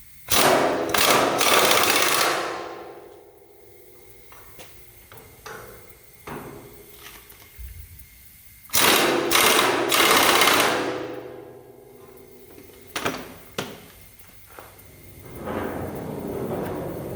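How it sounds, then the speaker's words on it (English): An impact gun tightens bolts on a Yale 3-ton hoist trolley mounted on a steel beam, with two long, loud rattling bursts and several shorter hammering taps between them. "Got to tighten it in place with the impact gun"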